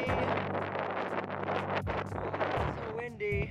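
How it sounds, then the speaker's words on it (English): Strong winter wind in Athens buffets the microphone with a steady, loud rushing roar that fills the whole stretch, with voice-like tones mixed in. "It is very windy."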